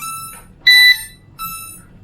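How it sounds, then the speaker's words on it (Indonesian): A GT6 drone binding to its remote gives a short, clear electronic beep. Softer chirps come just before and after it, close and alone, with no talking. "Ada bunyi beep sekali, berarti antara drone dan remote sudah terhubung."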